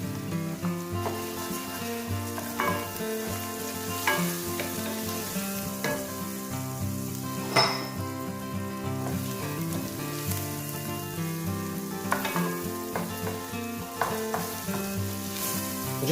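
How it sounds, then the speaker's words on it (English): Risotto rice toasts in a pan with pancetta, giving a continuous soft sizzle and crackle with occasional light stirring scrapes, moderately quiet under a steady tonal background. "let the rice toast for about a minute"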